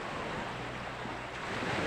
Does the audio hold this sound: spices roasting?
no